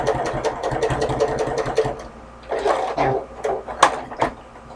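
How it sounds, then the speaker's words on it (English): Sewing machine stitching down a piece of a fabric basket, heard nearby in short rhythmic bursts with a brief pause in the middle before stitching resumes. "I'm going to sew it down really quick"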